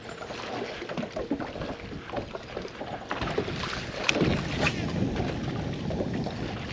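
Hard wind blowing across open water at a point on a lake during fall bass fishing, a steady rushing buffet of gusts and microphone wind noise with water slapping against a fishing boat, close and continuous.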